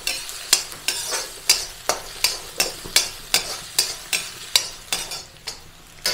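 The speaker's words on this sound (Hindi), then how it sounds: "इसको पकाना नहीं है, इसे हल्का सा सॉटी कर लेंगे बस" Capsicum lightly sautéing in a pan, with a soft sizzle under steady rhythmic scraping strokes of a spatula, about two per second, close and clear, with no voices.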